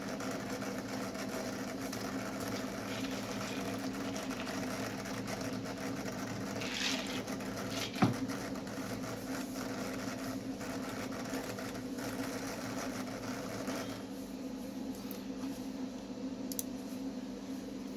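An actuator on a Steeds Tech benchtop tester cycles through a 0 to 100 test, giving a steady faint mechanical hum and whir with scattered light clicks and one sharper tick midway.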